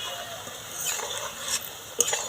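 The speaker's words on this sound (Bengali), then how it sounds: "এইভাবে খুন্তি দিয়ে নাড়াচাড়া করছি" Carrot goja sweets frying in oil, stirred with a spatula: a soft continuous sizzle with a few light scrapes and one sharp tap of metal near the end.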